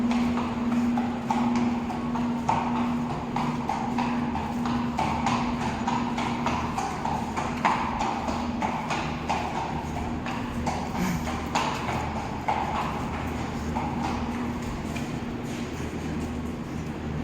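Horse hooves clip-clop steadily as a horse walks through a busy indoor winter fair, the footfalls mid-distance and moderately loud over a constant crowd murmur and a steady low hum.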